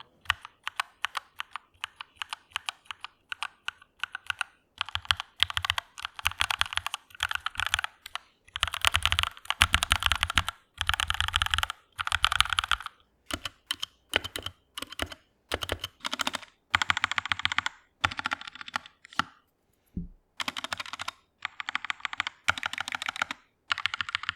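Fast, steady typing on a Cougar Puri Mini 60% mechanical keyboard with pre-lubed Gateron switches, close and crisp, with bursts of clacking keys separated by brief pauses and no talking.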